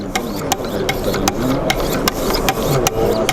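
A Wicked Edge sharpener with a 3000 grit stone drawn across a knife blade gives steady rasping strokes at a quick, even rhythm, close and fairly loud.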